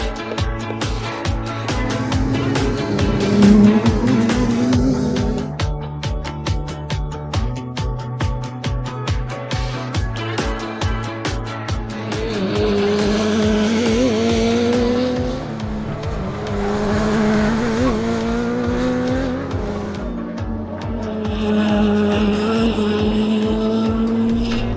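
Race cars lapping a track during a practice session, engines droning loudly with rising and falling notes as cars pass close by, one after another, with no talking.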